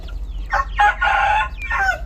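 A rooster crows in a few bursts, with chickens clucking around it during feeding with cassava, under a low, steady background hum.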